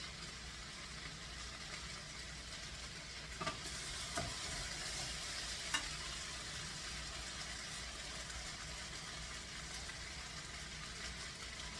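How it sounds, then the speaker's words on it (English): Potato and meat hash frying in a pot gives a faint, steady sizzle, with a few soft clinks of stirring and a low background hum, no voices. "I'm going to be stirring these around just for a little bit more"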